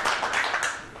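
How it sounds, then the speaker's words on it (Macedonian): A studio audience in a Macedonian TV quiz show gives a short burst of applause, a dense, fairly soft patter of clapping hands that lasts about a second. "Луѓе, еден аплауз за Славе."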